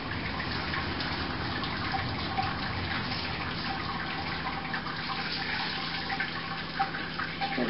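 Sparge water washing slowly through a grain bed on a brewing screen in a Robobrew all-in-one brewer during a pale ale brew, a steady close rushing trickle without pause.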